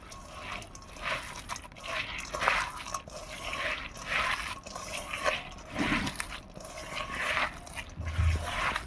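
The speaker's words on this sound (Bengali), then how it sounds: "আমি এবার এটা হাত দিয়ে ভালো করে মাখিয়ে নেব।" Bitter gourd and lentil chorchori mixed and mashed by hand, giving close, soft, wet squelches and squishes in a loose repeating rhythm, with no talking.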